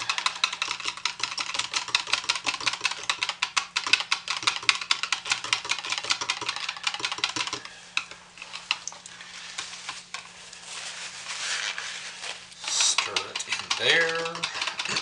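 Black colorant being stirred into soap batter, a steady scraping and tapping of a utensil in a container, fairly quiet, with brief soft speech.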